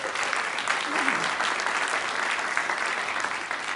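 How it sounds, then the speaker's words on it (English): An audience at a Sigma Pi Phi panel event claps steadily for a teacher, a continuous, moderately loud wash of applause with a brief murmur of voices underneath. "let's give her teacher a round of applause"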